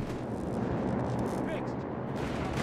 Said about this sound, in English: Greyhounds exploding as 20mm autocannon fire rips through the armor